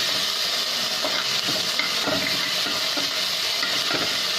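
Corn snack ingredients sizzle and fry in a pan with a steady hiss, broken by a few soft stirring scrapes roughly once a second.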